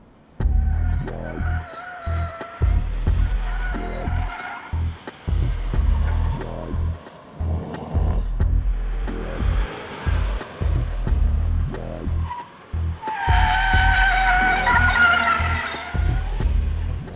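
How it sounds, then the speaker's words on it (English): Opel Adam with an 85 kW 1.0 turbo engine driven hard on the road, its engine droning and throbbing in uneven bursts, with a brighter squeal of skidding tires rising near the end. "The only designs I had was on tossing this very, very sexy, funky, fun-looking car around"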